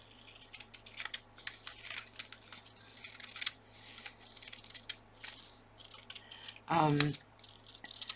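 Scissors cutting paper for a gluebook collage, a quick run of crisp snips and rustles close by, then a short burst of voice near the end.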